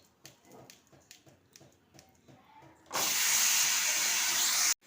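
Broccoli dropped into hot white oil in a wok bursts into a loud, steady hiss and sizzle that holds for about two seconds, after a few quieter clicks and taps.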